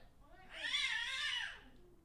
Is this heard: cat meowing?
yes